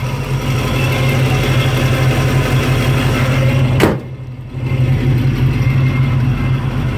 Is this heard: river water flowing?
no